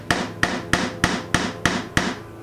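A hammer drives a nail into an acoustic guitar neck in a workshop with seven sharp, evenly spaced strikes, each ringing briefly, close and alone.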